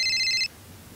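A telephone rings with an incoming call, a short loud electronic trill of stacked bright tones lasting about half a second and then stopping, leaving quiet room tone.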